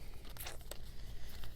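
Paper prompt cards being shuffled by hand for a reading-list game, giving a brief soft run of crinkly riffling and tearing-like rustles over a low steady background hum.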